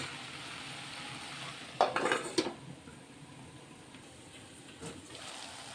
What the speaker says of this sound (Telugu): కర్రీ అయితే ఉడుకుతుంది.